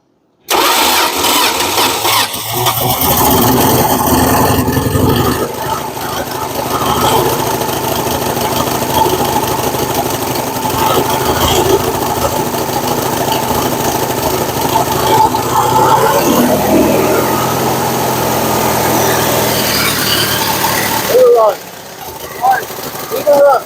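A Dodge Aspen engine, suspected of a cracked or burnt valve, cranks and catches, then runs loud and rough for about twenty seconds before cutting out, with voices heard over it.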